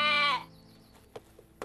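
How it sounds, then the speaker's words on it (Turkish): A lamb gives one clear, close bleat at the start, followed by a quiet pause and a couple of faint short knocks or rustles. "en az benim kadar biricik kuzusu Lesi"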